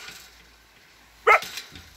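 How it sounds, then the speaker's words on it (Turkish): A dog gives a single sudden bark with a faint follow-up yip, near and fairly loud, in a quiet outdoor garden setting otherwise nearly silent. "Niye birden havladın öyle?"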